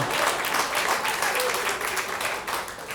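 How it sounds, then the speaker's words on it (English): Comedy club audience breaking into a dense, even wash of applause, many hands clapping at once for a few seconds, fairly loud and unbroken. "Round of applause at table 32."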